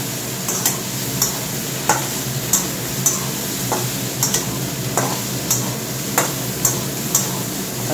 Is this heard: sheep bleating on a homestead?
no